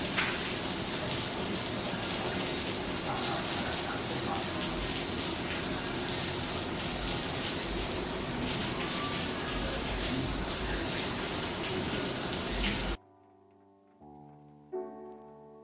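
Artificial rain pours steadily in a rain room studio during a fashion shoot, a dense continuous hiss of drops hitting the floor that stops abruptly near the end, leaving quiet faint tones.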